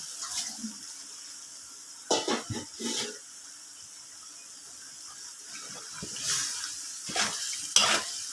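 Beef stir-fried with sour pickled bamboo shoots for a Thai beef curry: quiet background with a few short bursts of stirring and scraping, light sizzle and splashing water, no voices.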